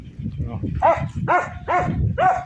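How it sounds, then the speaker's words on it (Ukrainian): A dog barks outdoors in a residential yard in Ukraine on a hot October day, giving four fairly close, evenly spaced barks over a low background murmur. "собака гавкає"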